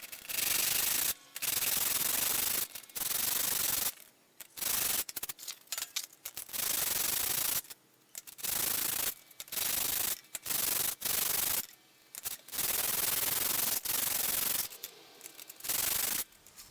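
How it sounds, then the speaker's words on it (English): A wooden fidget spinner being sanded smooth by hand, giving loud, close, rough scratching strokes in repeated bursts of about a second each with short gaps between them. "I'm going to try and sand off the template now"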